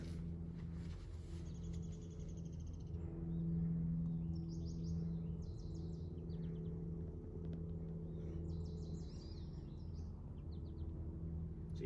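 Faint, high chirping spring bird calls come in short bursts over a steady low rumble of outdoor background noise.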